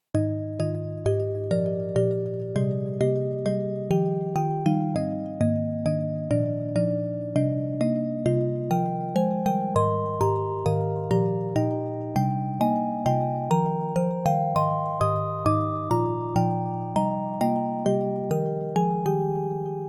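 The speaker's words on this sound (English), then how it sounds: "a digital key sound here with beautiful timbre." A bright, bell-like FM synth keyboard plays a steady melodic pattern of plucked digital notes, each decaying quickly, repeating evenly for about twenty seconds.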